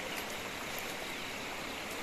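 A hillside water stream in rural Uttarakhand, flowing from near the village of Lamgaon, rushes and trickles steadily as a dense, unbroken wash with no voices over it.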